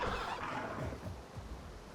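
A duck in the dinosaur survival game Path of Titans calls out in a brief, raspy, gobbling squawk that fades over about two seconds, heard up close with no talking.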